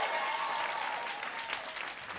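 Applause from a cabaret audience at 54 Below in New York for a concert cast, a fairly faint, continuous crowd clapping heard from some distance.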